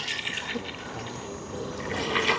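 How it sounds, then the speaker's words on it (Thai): Strong current of a canal flowing fast past a survey boat, a steady broad rush of water with splashy detail, fairly close and continuous without talk. "น้ำไหลแรงอยู่นะ"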